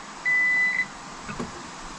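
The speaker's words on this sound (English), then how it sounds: "It's a metal detector, a wand metal detector." A handheld wand metal detector gives one steady electronic beep lasting about half a second as it sweeps over century-old reclaimed barn lumber, close and clear above quiet room noise.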